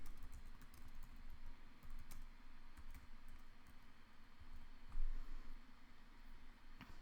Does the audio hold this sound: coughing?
no